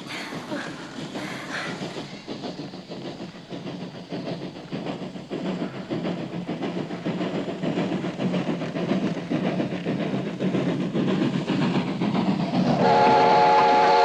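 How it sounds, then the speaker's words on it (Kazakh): A train rolls past with a steady rumble and clatter of rail cars that builds gradually and grows louder, ending with a whistle sounding near the close; no one speaks. "Останови поезд, сынок!"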